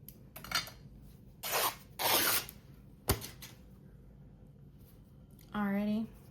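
Scissors snip and rasp through fabric being trimmed for a junk journal spine, several short bursts of cutting and rustling with quiet gaps, ending with a brief spoken word.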